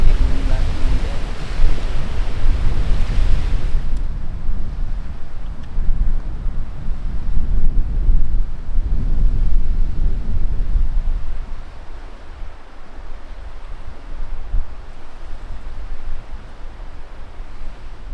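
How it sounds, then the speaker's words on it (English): Strong wind roars and buffets the microphone in heavy rumbling gusts on Lake Opeongo, Algonquin Park, easing slightly partway through but staying loud and constant. "Can't believe how windy it is now compared to the dead calm it was this morning"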